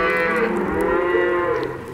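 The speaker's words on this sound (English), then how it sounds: "Those are cows." Cattle moo loudly and close by in a long, drawn-out call that carries on with overlapping lowing and fades slightly at the end.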